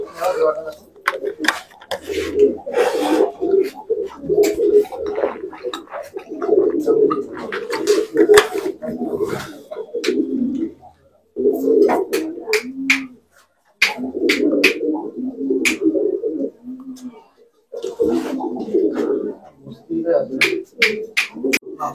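Domestic pigeons kept by a pigeon fancier coo in low, repeated bursts through most of the stretch, close and fairly loud, with a few short pauses and some sharper clinks overlapping.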